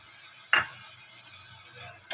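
Spice paste is stirred into a pumpkin-leaf curry in a pan. Two short, sharp scrapes of a spoon against the pan stand out over a faint, steady sizzle.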